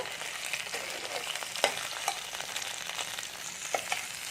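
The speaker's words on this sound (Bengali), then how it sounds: "এবার নেড়ে একটু ভাজা ভাজা করব" Chopped kundri and other vegetables sizzle in a pan of oil while a spatula stirs them, making a constant close crackle punctuated by a few sharp scraping clinks.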